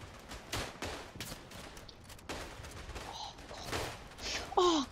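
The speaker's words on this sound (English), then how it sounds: "So they got machine guns." Machine gun fire rattles in a World War One video game, with repeated bursts and distant gunshots across the battlefield and a short shout near the end.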